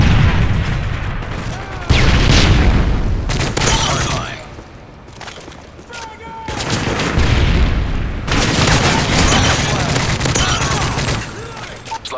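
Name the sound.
stun grenade explosion in Call of Duty: Modern Warfare 3 video game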